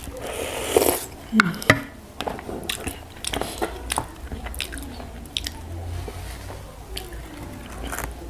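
Wet, squishy chewing and biting of soft braised pork leg stewed in five-spice gravy, eaten with dipping sauce; close, irregular mouth sounds with a few louder bites early on.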